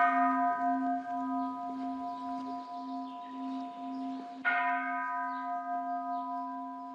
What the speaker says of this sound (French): Nous allons maintenant sonner 3 fois la cloche pour signifier le début de la séance.